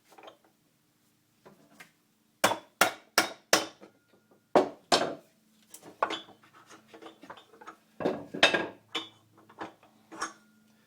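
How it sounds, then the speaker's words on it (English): Sharp, loud hammer blows strike a wooden dowel to drive out a lathe headstock spindle, coming in irregular clusters of a few whacks each with brief pauses between them, close by in a quiet workshop. "I have this wooden dowel that just fits through the opening. So I'm going to line everything up, give it a few more whacks"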